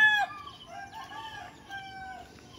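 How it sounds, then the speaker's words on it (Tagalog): A rooster crows once, loud and close, its call falling away quickly, followed by softer trailing fowl calls against a quiet farmyard background. "Tanawa ang manok ni Alvin kasi mabawi yo."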